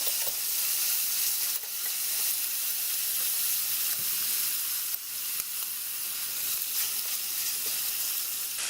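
Turkey wing tips and skin bubbling in rendering fat over high heat, a dense, steady sizzle and crackle with scattered pops, close up and continuous throughout with no voices.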